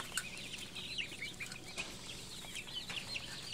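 Chicks and ducks peep and chirp in a Tractor Supply store brooder, a busy chorus of small high calls with occasional clucks and soft wing flutters, faint and fairly close.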